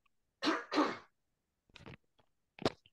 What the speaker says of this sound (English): I'm going to have to clear my throat